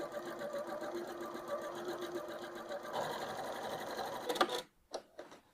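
A Janome 3160 sewing machine runs a close zig zag stitch at a quiet, steady rapid clatter for about four seconds, then stops, leaving a few faint clicks.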